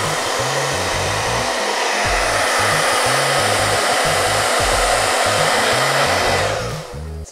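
A handheld hair dryer blasts continuously onto paint on a water surface, the loud steady whoosh running unbroken until it cuts off sharply near the end.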